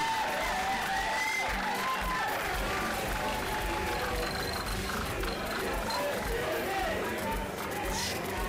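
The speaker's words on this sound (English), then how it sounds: "A big applause for GRA, Ghana." Crowd applause at a ladies' award ceremony for the Africa Cup of Club Champions in Nairobi, Kenya, a dense continuous roar of clapping and cheering from a large audience, with babble and a few shouts mixed in.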